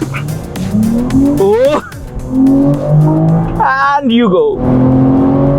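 A BMW M340i engine revs and launches hard under launch control, rising through gears with tire squeal and loud acceleration, someone talking briefly before the launch.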